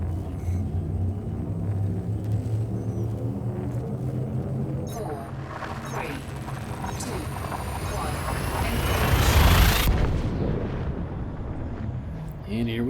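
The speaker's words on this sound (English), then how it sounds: "And here we go, jumping from star to star." Ship hyperspace jump in Elite Dangerous: a deep roaring rumble builds steadily with a rising whoosh that swells to a loud peak, then cuts off abruptly into a quieter drone.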